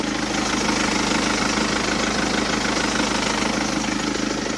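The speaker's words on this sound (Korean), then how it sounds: "디젤 차량이기 때문에 디젤 음은 들려주고 있지만 굉장히 규칙적인 엔진 사운드까지 잘 들려주고 있는 모습이고요" A BMW 5 Series 520d diesel engine idles up close with the hood open, a steady, regular clattering rumble that holds an even rhythm throughout.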